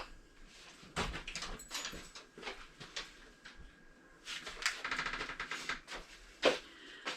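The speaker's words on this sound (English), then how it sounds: "It is called a giggle ball." A dog's giggle ball toy makes its warbling, chattering noise in bursts somewhere in a kitchen, faint and intermittent in the background, with a few soft knocks scattered among the bursts.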